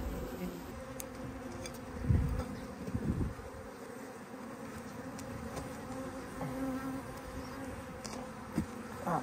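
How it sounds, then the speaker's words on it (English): Many bees buzz steadily around an old dead colony that has silk running through it. The hum is dense and continuous, with individual insects passing close now and then. "There's so many bees turning up now"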